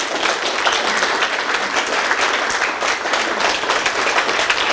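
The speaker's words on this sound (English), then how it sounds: "I just want to make sure we all give a massive round of applause to Mr. Sarup Singh Lander for his book" Steady, dense applause from an audience at a book launch in Manchester for Sarup Singh Lander's book, loud and even throughout with no pauses.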